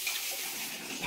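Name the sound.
washing pigeon pea lentils in water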